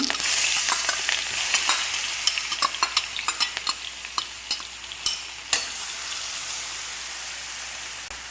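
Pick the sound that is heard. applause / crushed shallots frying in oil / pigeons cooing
crushed shallots frying in oil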